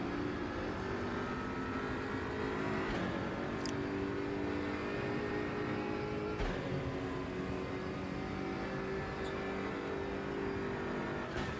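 Race car engine in RaceRoom at Monza on a final lap, a steady loud in-car engine drone with shifting pitch as gears change and occasional brief clicks, constant throughout.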